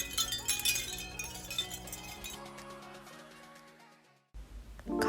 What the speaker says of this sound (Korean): 이거는 자개 모빌인데요.